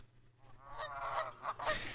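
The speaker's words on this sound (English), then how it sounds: "It was indeed a goose." A goose honks in several loud, harsh calls that swell and repeat over two seconds, heard alone with no talking.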